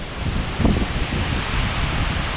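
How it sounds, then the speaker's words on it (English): Strong wind roars steadily through Wisconsin forest trees, a dense rushing noise with gusting swells and no voices. "Like I said, it's extremely windy."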